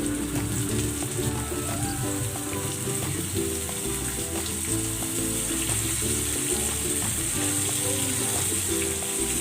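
Flour-dredged tilapia fries in a pan with a loud, continuous sizzle and crackle, a busy spattering of oil that holds steady throughout with no talking.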